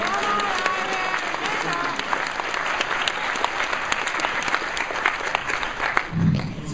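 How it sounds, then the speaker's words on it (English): Audience applause at a New York Comic Con panel for a DC Comics guest, a loud continuous crowd clapping with some cheering throughout. "Let's give a little applause for Ivan."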